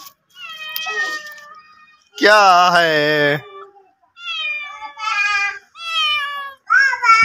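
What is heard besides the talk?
black cat meowing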